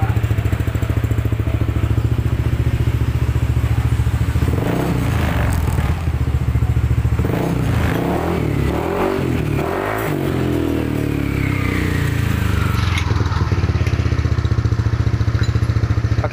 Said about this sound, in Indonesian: ini mesin sudah hidup, dan sekarang bunyinya tidak kasar lagi dari CPT nya